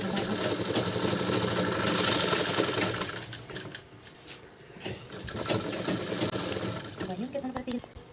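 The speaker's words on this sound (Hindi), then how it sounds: "इस तरीके से हम इसकी सिलाई कर देते हैं" A sewing machine stitches a strip onto a kurta neckline with a steady, close, buzzing whir that pauses briefly midway and then resumes, with a voice faintly underneath.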